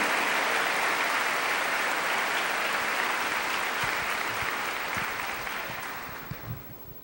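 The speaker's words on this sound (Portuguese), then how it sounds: "Aplaudir essa palavra," A congregation at a Portuguese-language church service claps together in a dense, steady wash that holds for several seconds and then gradually thins and fades out.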